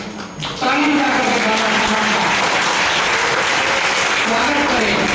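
Sustained audience applause honouring Babasaheb Ambedkar at a birthday commemoration, loud, dense clapping that swells after a brief quieter start and holds steady, with faint voices mixed in beneath.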